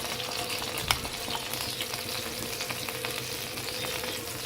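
Cumin powder frying in two tablespoons of hot oil in a pan for samosa stuffing, a continuous close sizzle with a few light clinks of a utensil, no voices.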